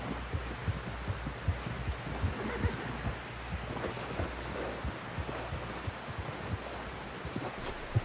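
Horse hooves in Red Dead Redemption 2 thud in a steady, rapid clip-clop rhythm, close and continuous under a low ambient rumble.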